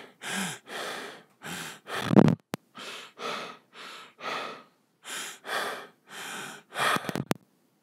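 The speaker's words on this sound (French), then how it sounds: "quand on se met en face, la respiration est beaucoup plus captée" Close-miked human breathing: about a dozen steady inhales and exhales in an even rhythm, loud and airy with a few sharper, rougher breaths, and no talking.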